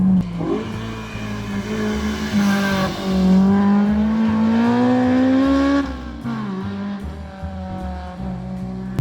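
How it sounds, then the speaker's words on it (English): A Honda S2000 AP1 with a Spoon N1 exhaust revs and drones on a mountain road, pitch rising and falling as it accelerates and eases off, loud and close with no talking. "So this is the Spoon N1 exhaust."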